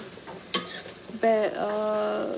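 A pan of cherry tomatoes cooks for spaghetti sauce, with a soft sizzle, a spoon knocking and stirring against the pan, and a brief whining tone over the frying.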